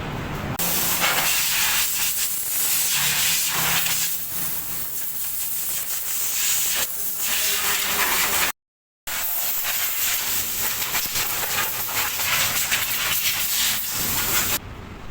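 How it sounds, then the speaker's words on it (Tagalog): Compressed air is blown onto car wheels and brake pads during an oil change, a loud continuous hiss that runs almost unbroken and cuts out once briefly before resuming. "bugahan ng hangin ang mga gulong, lalo na sa kanyang mga brake pads"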